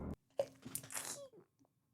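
A short, sharp sneeze bursts out once, then a faint voiced sound and breath fade into quiet.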